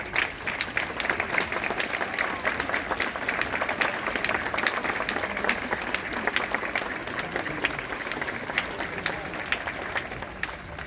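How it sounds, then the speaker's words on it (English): Many hands clap together in continuous, dense applause from a group of children, steady and fairly loud, with a few voices faintly mixed in, at a band concert. "your child is going to clap for you"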